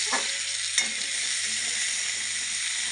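Vegetables with a sprinkle of salt fry in a small amount of oil, giving a steady, close sizzling hiss with a couple of brief stirring clicks near the start.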